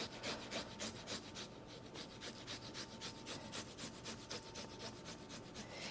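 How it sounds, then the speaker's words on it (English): Garlic clove rubbed quickly back and forth across a microplane grater in a home kitchen, a steady run of close, rhythmic rasping strokes that continues alone without pause. "So then I grate down to that, and then knock it in there."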